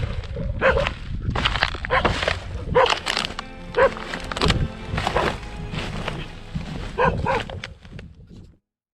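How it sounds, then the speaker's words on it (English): Feral dogs bark repeatedly at a dump site in Ladakh, loud, close bursts in an irregular run of barks with brief gaps. "Feral dogs which inhabit these dump sites are major concern for both people and animals."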